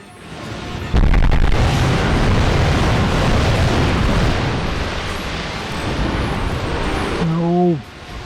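Heavy cannon blasts in the PS2 game Drakengard, a sudden loud boom followed by a sustained rumbling roar of explosions, with a short wavering cry near the end.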